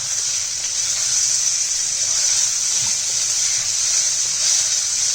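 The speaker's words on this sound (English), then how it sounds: "I'm going to allow it to sear for another 5 minutes" Spiced eggplant searing in a hot pan, a steady bright sizzling hiss holding evenly and fairly loud throughout, with no talking.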